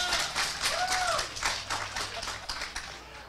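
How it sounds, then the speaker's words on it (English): An audience at a magic show claps for a volunteer, a short burst of dense applause that quickly thins out and fades. "I think Linda deserves a round of applause so far"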